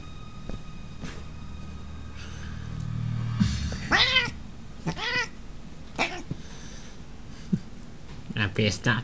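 A cat meowing indoors, several short rising-falling cries spaced a second or so apart, fairly close, with a person talking quietly around them.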